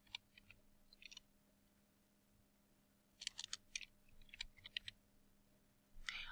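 Keys clatter on a computer keyboard as a poem title is typed, short bursts of soft clicks separated by pauses, close and quiet over a faint steady hum.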